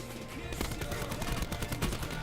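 Rapid automatic gunfire from the video game Black Ops 4 in Blackout mode, loud dense bursts of shots filling the scene with a brief quieter lead-in, while a player talks excitedly over it.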